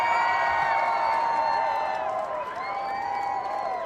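A stadium crowd in Cricket Club VR cheers continuously, with a sustained roar and high sung or whooping tones rising and falling over it, loud and unbroken.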